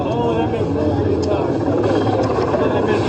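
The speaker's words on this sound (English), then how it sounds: "Do you guys see the helicopter?" A helicopter hovers over a street protest in Minneapolis, giving a steady, droning low rumble beneath nearby voices talking throughout.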